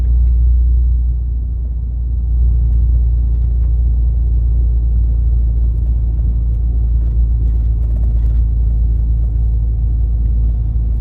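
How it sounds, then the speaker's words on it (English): A truck rumbles along a dusty rural road, a low, steady, loud engine drone that swells slightly and then holds, with no talking over it. "Here comes another truck."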